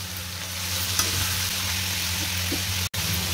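Tomatoes sizzle and fry steadily in a pan as a spoon stirs through them, a close continuous crackle over a low hum with a couple of faint scraping touches.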